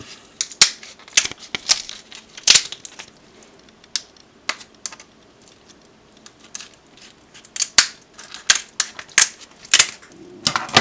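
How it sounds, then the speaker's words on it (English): Kitchen scissors snip down the undersides of lobster tail shells, giving a run of sharp, close crunching clicks in irregular bursts with short pauses and no talking. "So I'm going to take a scissor and I'm going to cut these down the bottom."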